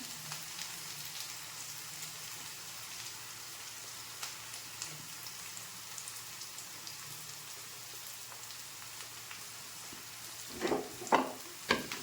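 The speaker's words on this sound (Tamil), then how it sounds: "இப்போ வெங்காயத்தை போடுறேன். அது கூடயே ஒரு 5-6 பல்லு பூண்டு தட்டி வச்சுருக்கேன், அதையும் போட்டுக்கிறேன்." Onions and crushed garlic cloves frying in a pan, a faint steady rain-like sizzle, then a few louder clattering scrapes near the end, no voices.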